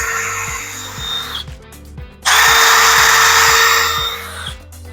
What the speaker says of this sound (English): you're gonna drill a hole right through that center point